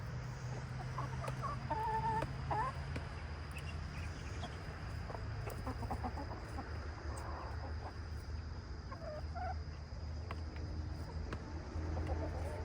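Chickens clucking steadily, with occasional short calls over a constant low farmyard hum, the birds near and moderately loud with no talking.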